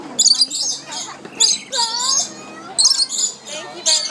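Birds feeding in the Butterfly World aviary, bright chirps and squawky calls in bursts, close and fairly loud, with people talking over them.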